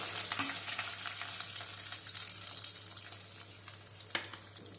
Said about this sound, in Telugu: ఈ అల్లం ముందు పచ్చిమిరపకాయ చక్కగా ఇలా వేగుతుండాలి